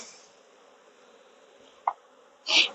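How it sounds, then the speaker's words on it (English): Bees buzz faintly around a hive box during swarm control work, a soft steady hum with a brief close buzz near the middle and a louder buzzing burst at the end. "now you got bees on the inside of the box"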